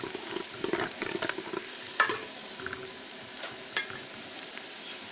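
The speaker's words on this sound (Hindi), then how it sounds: "ये देखिए मेरे प्याज़ों का हल्का सा ब्राउन कलर होना शुरू हो गया है।" Onions frying in a pan while being stirred, a steady sizzle broken by scraping and clacking from the spoon, with a few louder knocks against the pan, close and alone.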